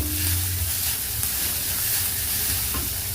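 Chopped garlic sautéing in a hot pan for a ridge gourd stir-fry, a steady close sizzle with scraping stirring and no talk.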